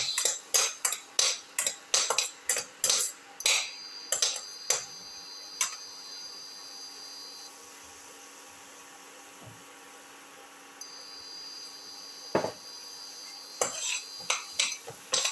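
A mix being sautéed in a pan, heard as a quick run of sharp metal utensil clinks and taps against the pan, then a quieter stretch with a single knock before the clinking picks up again.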